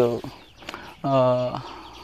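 Chickens cluck in short bursts on a farm in a mango orchard, with one longer, harmonic call in the middle, close by and fairly clear over a quiet background.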